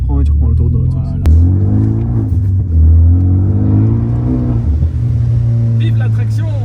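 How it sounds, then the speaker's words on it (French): A Renault Megane 3 RS Cup, stage 1 tuned to 315 hp, revs loud and close through its exhaust, a steady heavy engine drone that swells and dips between throttle changes. "L'échappement est pas mal. Ah, il pourrait faire un peu plus de bruit"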